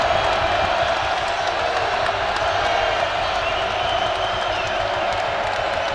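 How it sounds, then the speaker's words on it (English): A packed basketball arena crowd roars continuously during a South Carolina vs Clemson game at Colonial Life Arena, a loud, dense wall of cheering that holds steady throughout, with a commentator's voice faintly mixed in. "The crowd is electric."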